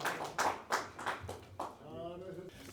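A few scattered hand claps ring out sparsely amid background chatter, uneven and close, fading into murmuring voices.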